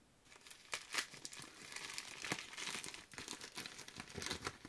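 Soft crinkling and rustling of plastic wrapping being pulled open by hand, in irregular crackly bursts, quiet and close.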